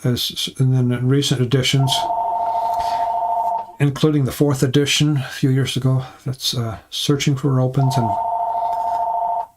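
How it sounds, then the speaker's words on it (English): A telephone rings twice as a steady electronic tone in a home during a man's conversation. Each ring lasts about two seconds and sounds clearly between stretches of his speech. "That's my phone. My wife will get it."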